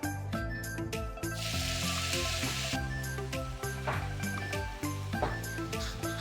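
Luffa (silk gourd) stir-frying in a pan, a steady close sizzle with bright spattering hiss and occasional metallic clinks of the spatula, running continuously throughout.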